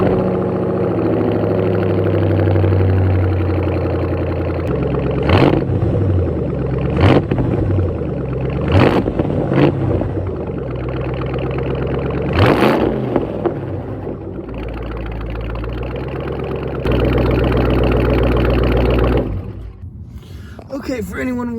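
A 2005 Ford Mustang GT with a Pypes Violator exhaust cold-starting and settling into a loud, rumbling idle, broken by several sharp blips of revving and one longer high-rev stretch before it shuts off.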